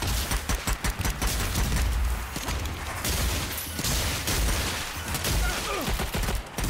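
Dense, rapid gunfire from the co-op shooter Strange Brigade rattles loudly and almost without pause, sustained bursts overlapping throughout.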